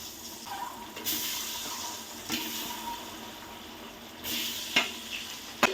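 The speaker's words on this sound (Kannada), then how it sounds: "ಒಂದು 5 ನಿಮಿಷ ಮೊಟ್ಟೆನ ಎಲ್ಲ ಮಸಾಲೆಗಳ ಜೊತೆ ಫ್ರೈ ಮಾಡ್ಕೊಬೇಕು" Eggs frying with masala spices and salt in a pan for egg biryani, a steady soft sizzle with occasional stirring clinks and scrapes, close and moderately quiet, no talking.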